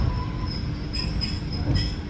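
Railway wagons roll past close by on a train journey to Almaty, a continuous heavy rumble with thin metallic wheel squeals rising over it at intervals.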